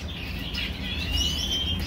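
Caged birds in an aviary during disinfection chirp faintly and continuously, with thin high tweets drifting over a low background rumble and no voices.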